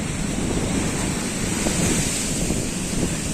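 Steady roar of ocean surf at high tide on a beach, with broadband wash and wind noise, continuous and fairly loud, no clear individual wave breaks.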